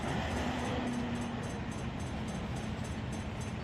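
An autorack freight train in the Run 8 train simulator rumbles steadily along nearby down Cajon Pass with a dense, continuous roar and rhythmic rattling; a faint tonal hum rises briefly early on.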